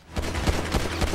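Rapid bursts of gunfire in the video game GTA V Online, several sharp shots in quick succession over about a second, fairly close and punchy with no talk.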